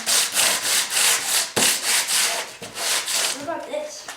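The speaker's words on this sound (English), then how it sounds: "we'll probably sand this down first to clean it up" Hand-sanding a wooden board for a wall-mounted pool cue rack, loud close rasping strokes in a steady back-and-forth rhythm with short breaks between passes.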